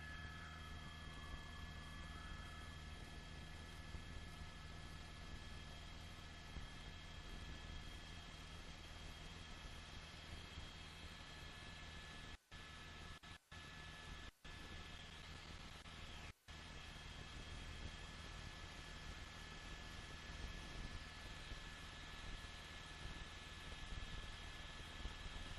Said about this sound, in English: CHP chopper.